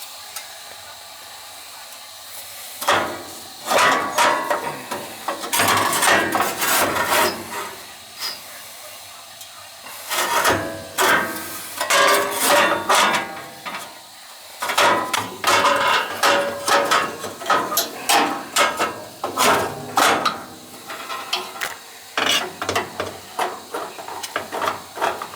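Old 1957 gas furnace running with its fan cycle engaged, giving a steady hiss and mechanical whir broken by repeated clicking, rattling bursts of varying loudness close by, with no talk.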